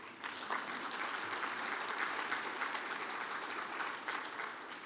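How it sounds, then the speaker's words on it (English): Steady applause from a sizable crowd at a luncheon fills the space, even and sustained throughout, heard at a moderate distance. "Paramount deserves a big round of applause"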